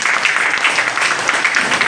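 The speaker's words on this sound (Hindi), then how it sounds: "और ऐसे प्रकाशक को भी हम अपनी तालियों के गड़गड़ाहट से एक बार धन्यवाद देते हैं" Audience applause at a Hindi poetry book launch ceremony, a dense steady patter of many hands clapping for about two seconds with no talk over it.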